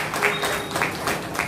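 A congregation claps hands during a New Year worship service, steady rhythmic clapping filling the room at moderate loudness for a brief stretch.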